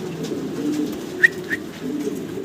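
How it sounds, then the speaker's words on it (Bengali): A pair of white Pomeranian pouter pigeons, a male and a female, give a low continuous coo at close range, broken by two brief sharp chirps midway. "সাদা প্রমিনিয়ান পটার দেখাচ্ছি, ডানেরটা নর, বামেরটা মাদি।"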